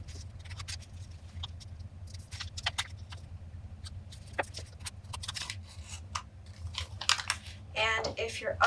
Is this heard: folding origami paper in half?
yes